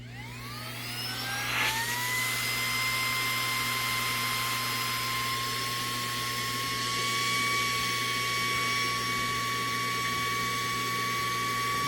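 A Saker 3-in-1 mini handheld car vacuum cleaner spins up with a rising whine and then runs steadily and close. Its high motor tone and airy hiss hold level throughout, with no talking.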